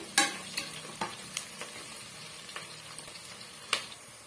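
Onions and green chillies fry in a pan while being stirred, with a few distinct scrapes and taps of the spatula over a quiet, steady sizzle, heard up close and with no voices.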